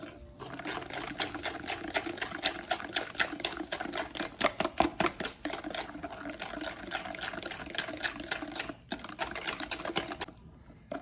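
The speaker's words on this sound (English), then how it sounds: "So I'm going to give that a mix." Strawberry cake batter with half a cup of oil gets mixed in a bowl, making a fast, steady clicking clatter that runs almost without a break for several seconds.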